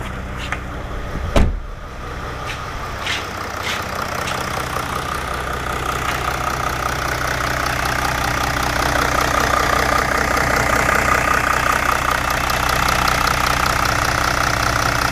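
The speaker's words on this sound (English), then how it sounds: "let's just go outside here, take a look at that motor when it's running" A 2008 Jeep Grand Cherokee diesel engine idling outdoors with a steady, close knocking rumble, preceded by a few sharp clicks and a thump before the idle settles and grows slightly louder.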